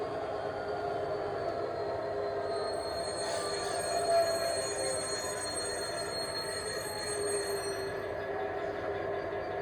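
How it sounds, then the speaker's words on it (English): A continuous high metallic squeal from the braking wheels of an OO gauge Class 66 model locomotive sustains over a steady mechanical rumble, with no speech. "let you guys hear what the brake squeal sounds like"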